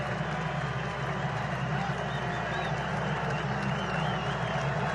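Baseball stadium crowd at a Cleveland vs White Sox game keeps up a steady, loud roar and cheer on a 2-2 count, with a continuous dense wash of voices and faint whistles throughout.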